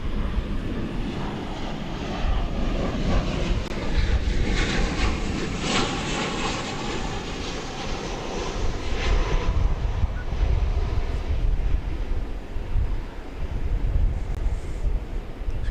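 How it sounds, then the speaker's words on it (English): A United Airlines Boeing 737-800 from Denver landing at DFW Airport, its broad engine roar rising and swelling in the middle, then lingering, mixed with steady wind rumble on the microphone. "It's got a United Airlines double play happening here. We just saw landing coming in from Denver, a 737-800, flight 1300."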